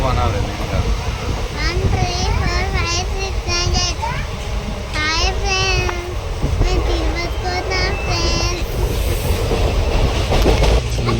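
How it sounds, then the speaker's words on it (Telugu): The Padmavati Express pulling out of Secunderabad Junction, a loud continuous rumble and clatter of the moving train close at hand, with children and adults talking and calling out over it throughout. "ఇప్పుడే మూవ్ అయింది ట్రైన్. సికింద్రాబాద్ జంక్షన్ నుండి వెళ్తున్నాం."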